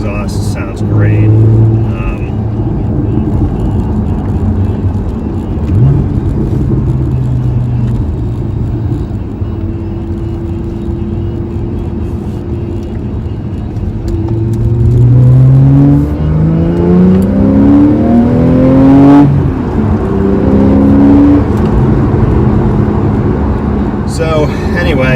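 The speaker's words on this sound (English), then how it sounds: "the exhaust sounds great" Porsche 911 fitted with Fabspeed headers, free-flow cats and a custom tune, its engine and exhaust droning steadily up close and swelling through rising revs later on, with someone talking over it.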